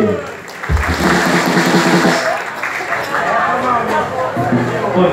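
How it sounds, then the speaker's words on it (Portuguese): Outdoor crowd at a Labour Day municipal celebration breaking into applause to welcome a speaker, beginning after a brief thump and lasting as sustained clapping mixed with cheering and chatter, close and loud. "Vamos receber com a salva de palmas aí"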